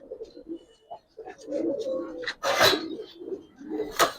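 Giribaz pigeons coo in low, soft rolling phrases, close by, with a couple of brief sharper wing or scuffling noises breaking in; someone talks quietly in the background.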